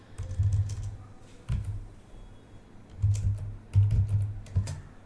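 Keys clatter on a computer keyboard as a Windows 11 command is typed, producing close, fairly loud bursts of quick keystrokes separated by short pauses.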